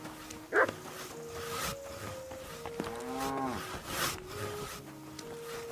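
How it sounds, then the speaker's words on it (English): A dog in the video game Kingdom Come: Deliverance 2 gives a few short barks and whimpers at moderate distance, with game sounds and a faint voice in the background. "No one wants to hear your barking."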